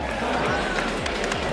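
A short stretch of crowd clapping at the trophy ceremony of a dirt-track car rally in Pozoblanco, dense and even, with a low repeating falling tone beneath it.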